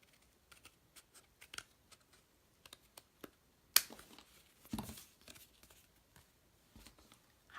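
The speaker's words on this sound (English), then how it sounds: "I'm going to take my snips and cut off the extra." Small hand snips trim excess paper from a card-making project, giving a scattering of quiet, crisp clicks and snips at an uneven pace, with one sharper cut near the middle and faint rustling between.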